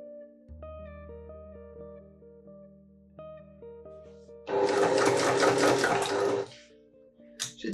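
A sewing machine joins two fabric pieces for a bum bag, a loud steady whirring burst of about two seconds followed by a short restart, over soft background music.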